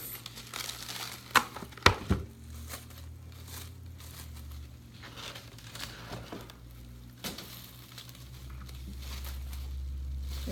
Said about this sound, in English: So we're gonna tear another piece.